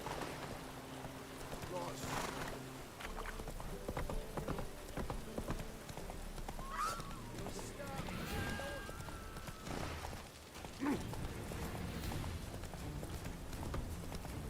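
Horse hooves clip-clopping as the horse is ridden through town in The Witcher 3: Wild Hunt video game, a steady light trot under game ambience and occasional talk.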